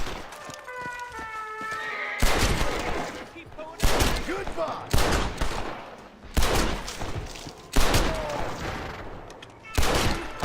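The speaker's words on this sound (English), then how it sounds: "Whoa. gunfire." Gunfire in Red Dead Redemption: Undead Nightmare, a zombie-horror western game: several loud bursts of shots come at irregular intervals, with horse hooves in the background and a voice speaking between them.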